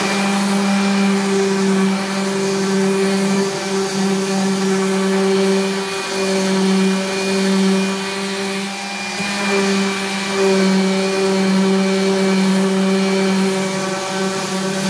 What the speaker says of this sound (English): I'm going to go ahead and sand this bottom part down just a little bit